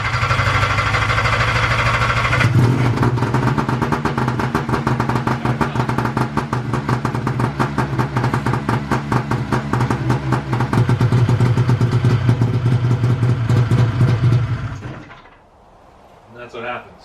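A 1997 Arctic Cat Panther 440 snowmobile cranks for about two seconds, then fires up and runs loud and steady with a fast, rough clattering engine beat close by. It cuts off near the end, leaving a short quiet tail.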